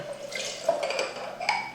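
Soy sauce mixture, about 30 to 40 ml of soy sauce, poured from a container into a pan or bowl, giving a brief close trickling, dripping sound with a couple of small splashes.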